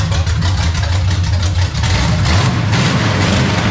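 A steady, deep rumble of a lumpy idling cammed Chevrolet C10 truck engine through Flowmaster Super 44 mufflers, loud and close, droning continuously without a break.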